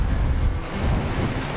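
Strong wind gusting across open Kansas plains during an early-season deer hunt, a loud, close, continuous roar buffeting the microphone with no voices over it.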